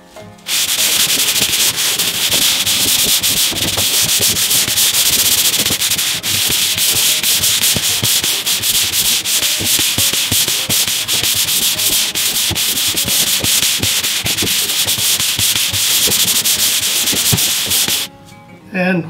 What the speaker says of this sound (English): We're going to use a pole sander with 100 grit sandpaper on it. It's just going to be a light sanding.